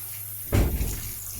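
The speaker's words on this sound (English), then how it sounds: "I'm trying to pour in hot water so that it will stop cooking" Hot water poured into a cooking pot to stop the food from cooking, a single short close splash and gush of about half a second that fades quickly.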